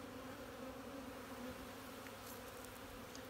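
Honey bees in a temporary hive produce a faint, steady, continuous buzzing hum with no break throughout.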